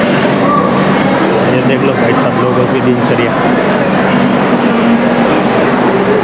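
A Mumbai local train rumbles and clatters through a crowded Dadar railway station, loud and continuous, with someone talking over the rolling noise and the bustle of people.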